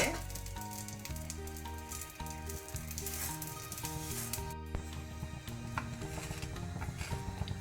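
A radish paratha roasts in ghee on a pan, sizzling steadily under a rich, musical background with repeated tonal notes, the frying crackle faint but continuous throughout.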